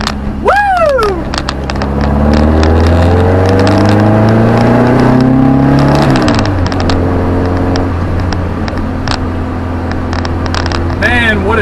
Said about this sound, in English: Hear that exhaust though?